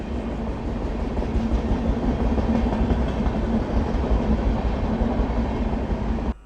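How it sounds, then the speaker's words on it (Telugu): The Kacheguda–Ashokapuram Express passes close by in a loud, steady rumble with a clickety-clack of wheels, holding even for several seconds before cutting off abruptly. "ఓ కాచిగూడ అశోకపురం ఎక్స్ప్రెస్"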